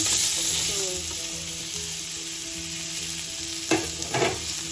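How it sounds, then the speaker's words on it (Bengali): Cumin seeds with a pinch of salt and turmeric fry in a pan with a steady bright sizzle, joined by a few scraping stirs near the end; no one speaks. "খুব বেশি ভাজবো না, কারণ জিরেটা পুড়লে চলবে না।"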